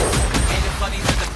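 Gunfire and rocket-launcher blasts from a film trailer for Dhurandhar 2 The Revenge sound as a loud, dense run of rapid, sharp bursts and booms, one after another across the short stretch.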